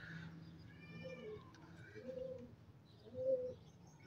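Pigeons coo softly in a loft of fancy breeds, low throaty bursts repeating at a slow pace, faint and close, with other faint bird calls around them.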